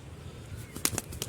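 Short flurry of wing flaps with a soft pigeon coo underneath, close by, a few quick bursts near the end.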